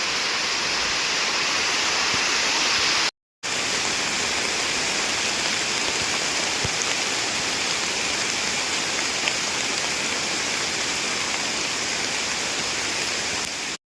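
Steady rain pours down in a dense, continuous hiss, briefly cut off once before resuming.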